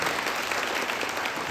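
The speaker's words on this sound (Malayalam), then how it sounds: "ഇനി സംസാരിക്കുമ്പോൾ കൈയടി വേണം" Audience applause at a motivational session for students preparing for public exams: dense, steady clapping from a crowd, sustained and fairly even throughout with no voices over it.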